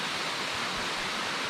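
Water pouring down a waterfall at an eco park in the Philippines, a steady close hiss of rushing water with no other sounds.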